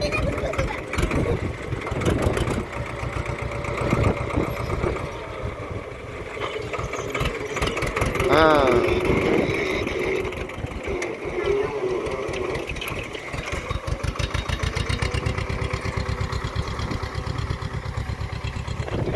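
A tractor engine idles steadily nearby with an even, throbbing chug that runs throughout, and brief voices sound in the background.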